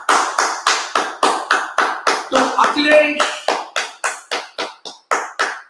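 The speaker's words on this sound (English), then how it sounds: "Please give a big clap" Steady rhythmic clapping from an audience at a morning NEET PG ENT quiz contest, applauding the winner, with about a dozen sharp evenly spaced claps and a brief spoken name partway through.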